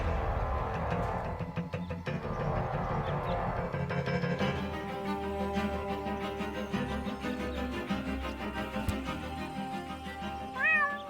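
Cat meowing in the point-and-click adventure game Deponia, repeated mews rising over a busy layer of game music and ambience, with a sharper, louder cry near the end.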